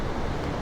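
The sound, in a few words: ocean waves crashing on the shore at Cascais, Portugal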